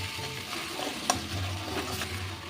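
Spice paste for chicken curry frying in oil in a pan, a steady close sizzle with stirring scrapes and one sharp utensil clink partway through, no talking.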